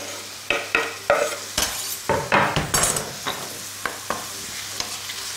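Mushrooms sizzle in a frying pan as peppers go in, with a series of stirring scrapes and utensil knocks against the pan over a steady frying hiss, close and clear.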